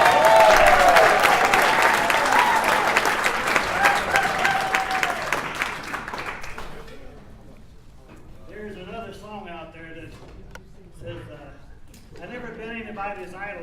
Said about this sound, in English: Give a round of applause for our own Andy Henderson.